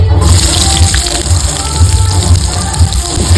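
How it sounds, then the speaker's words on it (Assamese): A loud, steady sizzling hiss of onions poured into hot oil with bay leaves, frying for a duck curry, with a dull thumping rumble in the background. "এতিয়া পিঁয়াজখিনি ঢালি দি আছোঁ দেই"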